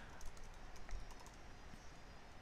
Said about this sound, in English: just click in the spot and then type